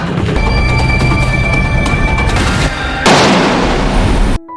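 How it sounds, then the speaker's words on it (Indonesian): A loud boom-like blast rings out, followed by a second sharp burst of impact noise, with a dense rumbling background throughout and no speech. "kemudian terdengar suara tembakan"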